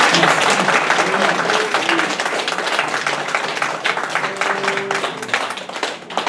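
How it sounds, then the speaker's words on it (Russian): Loud, sustained applause from a church congregation during a worship service, dense clapping filling the whole span with a faint voice or tone drifting underneath. "Аплодисменты Господу Иисусу."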